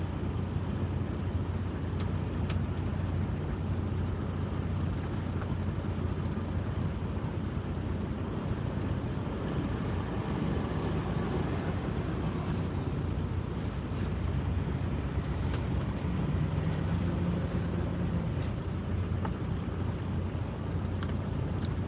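A car cruising along a road at about 60 mph, a continuous low rumble of engine and road noise with steady tire roar, close and unbroken for the whole stretch.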